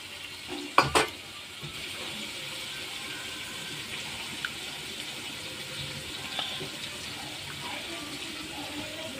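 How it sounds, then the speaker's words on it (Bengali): Ground mustard paste is stirred with water in a kitchen, a soft wet swishing and scraping with a couple of sharper clinks near the start, faint and continuous. "এই সর্ষেটাকে একটু জল দিয়ে আমি গুলে নেব"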